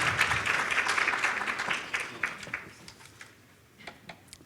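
An audience at a women in business breakfast claps for a speaker heading to the stage, dense applause at first that thins out to scattered claps.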